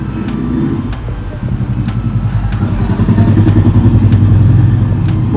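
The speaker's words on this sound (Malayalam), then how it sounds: "ബോട്ട് വരുന്ന ശബ്ദം കേൾക്കുമ്പോഴത്തേക്ക് അത് കാട്ടിലേക്ക് പോകും." A tour boat engine on Thekkady lake drones steadily and grows louder as it approaches, a close, continuous low rumble with a slight rattle and no voices.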